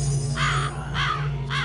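Three rough crow caws from the Psychonauts video game, evenly spaced about half a second apart and sounding moderately close over a steady low background hum.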